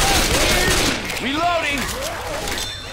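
Rapid bursts of gunfire from the zombie shooter Left 4 Dead 2 crackle loudly and continuously, with a voice speaking over the shots.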